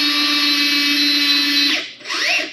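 Cordless pipe threader cutting threads onto iron pipe by hand: a loud, steady high-pitched motor whine and grinding bite that cuts out near the end, then a brief spin-up whir returns, close and alone.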